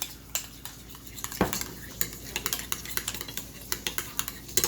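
Seasoned dill sauce with pepper and salt being stirred in a bowl, a steady run of light scraping and clinking spoon taps close by, with a faint kitchen hum beneath.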